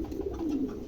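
A pair of exhibition homer pigeons cooing, a single soft low coo close by against faint background noise.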